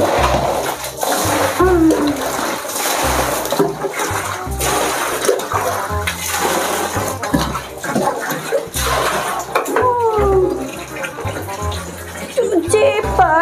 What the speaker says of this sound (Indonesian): Cuci baju sendiri.